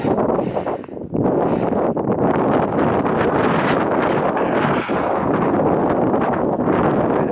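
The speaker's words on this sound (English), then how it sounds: "wind has sure made it miserable" Strong wind roars across the Pikes Peak summit, buffeting the microphone in a loud, continuous rush that dips briefly near the start before surging back steadily.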